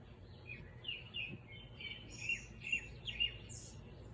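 Several birds sing along a quiet Mudeungsan mountain trail, with short high chirps and warbles coming in loose bursts from a moderate distance over soft background hiss.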